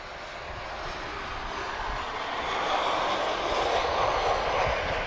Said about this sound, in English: Spirited arrival there from Ryanair